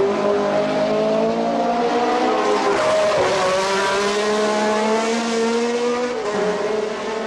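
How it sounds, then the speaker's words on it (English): Race cars of the 1969 Monaco Grand Prix roar past on a tight street circuit lined with walls and curbs, a loud continuous engine howl with rising and falling pitch as cars stream by close, with a brief tire squeal. "watch the cars stream by"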